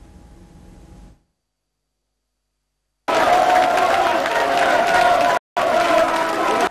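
Party members of the Congolese presidential party cheer and applaud at a meeting: after a short quiet stretch, a loud, roaring crowd noise of clapping and shouting starts abruptly, breaks off once for an instant, then continues.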